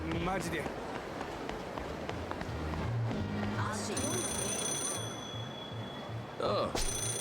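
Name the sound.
payphone ringing in the video game Yakuza 0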